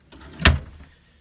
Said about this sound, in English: close that drawer.